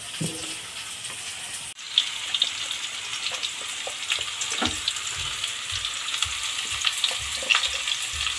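Ridge gourd fries in a pan with a constant close sizzle, scattered crackles and an occasional louder pop, with no talking.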